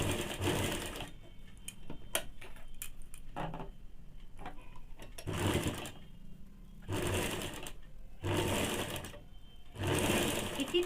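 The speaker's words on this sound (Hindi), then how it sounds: "इसी तरह से दोनों पैरों का पट्टी का सिलाई कर लेंगे" A sewing machine stitches the leg straps of baby panties, running in several sustained whirring bursts with brief quiet pauses and small ticks between them, close and clear.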